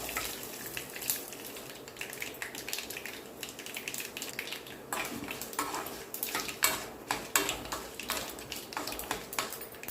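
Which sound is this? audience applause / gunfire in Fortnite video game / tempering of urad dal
tempering of urad dal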